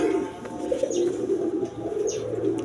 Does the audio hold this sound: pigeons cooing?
yes